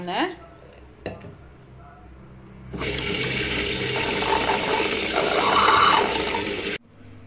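Soaked lentils are ground into batter in a wet grinder. After a few light clinks and knocks, the machine starts with a sudden, steady churning roar and runs loud and close for about four seconds before cutting off abruptly.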